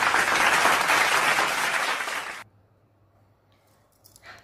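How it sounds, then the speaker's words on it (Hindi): Loud, dense applause from an audience at a Hindi poetesses' gathering (kavi sammelan) greeting a poet, a steady wash of clapping that cuts off abruptly midway, leaving near silence with faint stirrings at the end. "आप जोरदार तालियां बजाएं बहन दीपिका वर्मा।"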